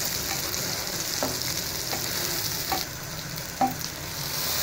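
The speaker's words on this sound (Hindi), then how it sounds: "अब मैं इसमें डाल दूँगी जो मैंने मिक्सचर तैयार किया था। मिक्सचर डालने के बाद मैं इसे अच्छी तरह मिक्सअप कर लूँगी।" Spice mixture being stirred into browned onions in a pan for aloo ka bharta, a steady sizzle with a few soft scraping strokes of the spoon, close and unaccompanied by voices.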